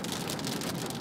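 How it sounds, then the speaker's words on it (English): Heavy rain pounds down in a dense, loud, continuous patter of drops on a surface, close by and steady throughout. "now it's gonna get really loud and raining."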